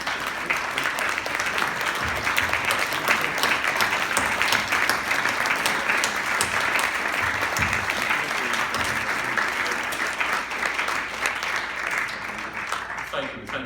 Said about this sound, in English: so you can have a round of applause